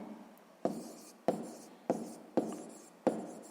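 Pen or pencil writing out a sixth-grade maths answer on paper, five short scratchy strokes in a steady rhythm, close and fairly loud, with no talking.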